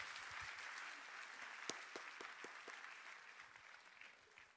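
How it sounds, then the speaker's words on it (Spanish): A church congregation claps loudly and steadily during a live worship service, a dense sustained wash of applause with a few sharper individual claps, gradually easing toward the end. "Dele palmas fuertes al Señor."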